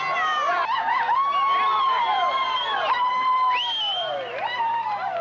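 Spectators along the 1986 Houston Marathon route cheer the runners with whoops, shouts and high, sliding calls. The cheering is loud and continuous, with voices overlapping in a noisy crowd.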